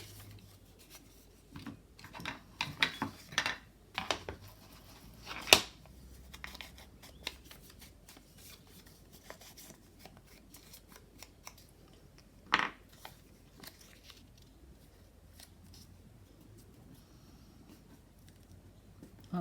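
Scissors snip through paper and lace while a snippet roll is being made, a series of close, crisp cuts and rustles in uneven bursts, busier early on and then sparser, with a sharp snip standing out now and then.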